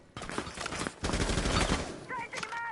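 Gunfire in a competitive video game finals match as players shoot through walls: dense, rapid bursts of shots that run almost continuously with commentary voices underneath.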